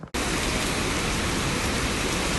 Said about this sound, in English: And as promised, here is the rain, the lightning.